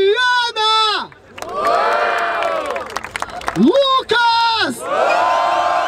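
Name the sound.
rap battle audience cheering for Diana's rhymes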